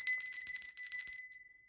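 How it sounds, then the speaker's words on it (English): A small bell rings in a quick series of bright, sustained metallic strikes, loud and alone with no talking, the tones fading out toward the end. "that's the bell of hope"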